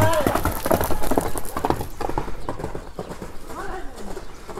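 Horse galloping on open ground, a rapid, loud run of clip-clopping hoofbeats close by that gradually fades, with people talking over it.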